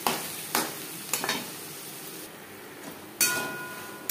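Ghatkol leaf paste sizzles loudly in a pan over a high flame as a utensil stirs and spreads it, with several sharp scraping strokes over the steady frying hiss.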